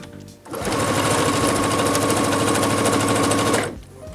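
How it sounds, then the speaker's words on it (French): A sewing machine stitches through fabric bound with bias tape, a steady, loud mechanical whir running for about three seconds after starting up, then slowing to a stop, with no voices over it. "Je vais venir m'installer et commencer par coudre dans le premier pli de mon billet."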